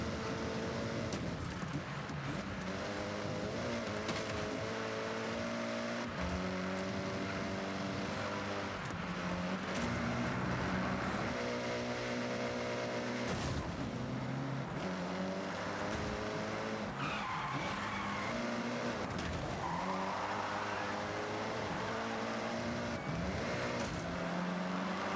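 A race car oversteers and skids in the video game Forza Horizon 6, its tires squealing under a loud, continuous engine roar that rises and falls through the corner, with music running underneath.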